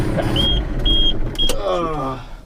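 Inside a farm vehicle heading out to the field to haul manure, an electric window motor whines in short bursts over a low vehicle rumble, with a few clunks and faint voices nearby.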